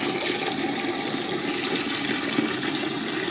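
Hot water gushes steadily from the drain of a Weil McLain boiler, carrying sediment out in a continuous loud, close rush with no speech.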